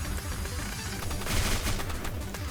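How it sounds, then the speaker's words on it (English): Heavy rifle gunfire in the Roblox game Infecdoom, a dense continuous barrage of shots that swells slightly around the middle, loud and unbroken, with no speech. "Heavy rifle."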